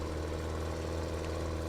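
A tractor engine idles in the Farming Simulator 17 video game, a steady low rumbling drone that holds constant and alone throughout.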